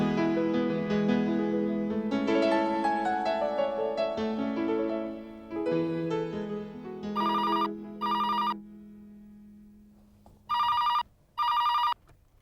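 A telephone rings in two short pairs of loud electronic trills, separated by a pause, after a stretch of soft melodic music fades out.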